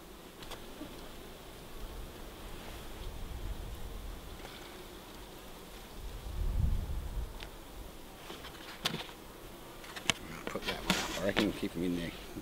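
A faint, continuous hum of honeybees in a hive during re-queening drones in the background while a person talks quietly nearby, with occasional clicks and rustling handling sounds.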